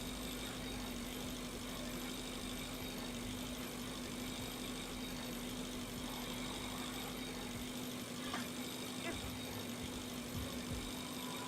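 Engines hum inside the space game Breathedge, a steady low drone with a constant tonal line holding level and unbroken throughout, alone with no voices.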